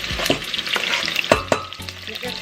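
Sweet onion and half a red pepper sizzle steadily in a hot pan, with a few sharp stirring clatters of a utensil against the cookware over the constant frying hiss.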